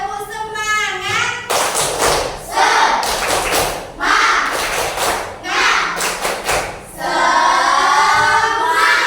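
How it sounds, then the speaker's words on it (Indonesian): A classroom of pupils performs a rhythmic spirit clap, bursts of loud, patterned claps and thumps in quick groups, alternating with the class chanting and children's voices between the clapping sections. "Tepuk semangat"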